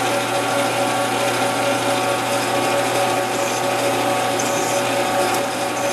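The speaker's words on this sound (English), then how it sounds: "you're going to see me go in and pull it out from time to time, even though this is only going through about a half inch of metal" Sharp drill bit boring through about half an inch of metal on a machining job, a loud, continuous grinding whir that stays steady and unbroken, with no voices.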